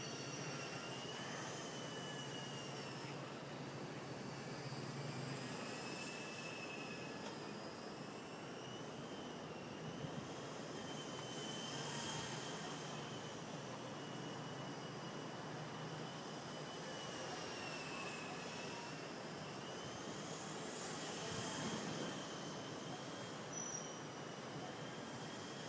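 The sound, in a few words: Xtreme Productions Solo Pro 328 RC helicopter flying fast outdoors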